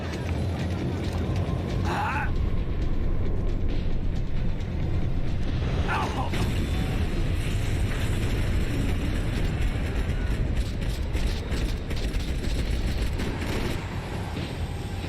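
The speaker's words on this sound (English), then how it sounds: "The tram was slowing down, and I'd only just gotten on board" A video game tram rumbling and rattling as it slows, a continuous loud mechanical drone of wheels and carriage noise with occasional clanks, while a voice speaks briefly over it.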